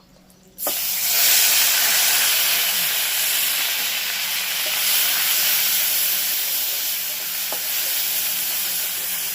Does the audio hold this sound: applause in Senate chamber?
no